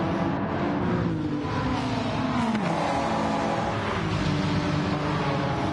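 Race cars around Suzuka in Gran Turismo 7, including an R34 and a 911, roar continuously with loud engine revving and shifting pitch as they accelerate and pass.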